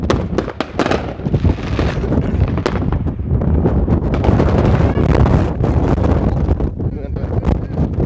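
Strong outdoor wind buffets the microphone during a New Year fireworks session, making a loud, continuous rumbling roar with sharp gusty bursts. A voice is partly buried in the noise.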